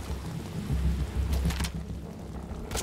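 Heavy rain in the game Metal Gear Solid Ground Zeroes, a constant close downpour with low rumbling swells, steady and loud throughout without talk.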